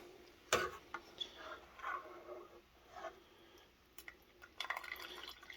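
Whey dripping and trickling from cheese curds in a sieve, soft irregular drips and splashes close by, quiet with no talk.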